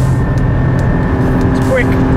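A mid-engined Porsche 718 Spyder pulls hard, its loud, close engine droning steadily before the pitch climbs sharply near the end as it revs up.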